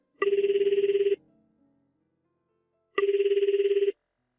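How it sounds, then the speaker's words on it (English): Telephone ringing in two long electronic trilling rings separated by nearly two seconds of silence, clear and fairly loud, with no voices. "so I'll just call you on the phone"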